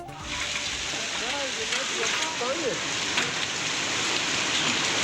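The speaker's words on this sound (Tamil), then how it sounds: "வேலூர் மாவட்டம் குடியாத்தத்தில் ஆலங்கட்டி மழை." Hail and rain pelt down steadily in Gudiyatham, Vellore district, a dense, even hiss of drops with scattered sharper ticks and some chirping birds underneath, continuous throughout.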